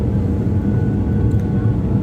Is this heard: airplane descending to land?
yes